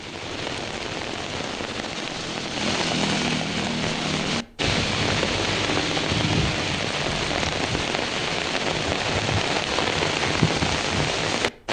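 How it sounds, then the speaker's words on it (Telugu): Unseasonal rain with gusty winds pours steadily over farmland in Warangal district, a dense, even hiss of drops that cuts out for a moment partway through before resuming just as heavily. "వరంగల్ ఉమ్మడి జిల్లాలోని పలు ప్రాంతాల్లో ఈదురుగాలులతో కూడిన వర్షం కురిసింది."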